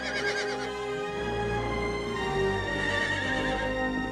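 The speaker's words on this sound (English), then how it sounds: "Beautiful horse." A horse whinnies amid sweeping orchestral music in a 1994 film trailer for Black Beauty, the neigh loud and drawn out over a busy dense score that continues throughout.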